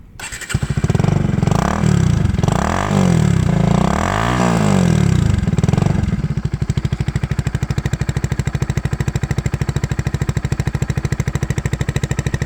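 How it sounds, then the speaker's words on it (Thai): A Bajaj NS 160cc motorcycle engine revs up several times with rising and falling pitch, then settles into a steady, close idle chugging alone. "ฟังเสียงเครื่องครับ"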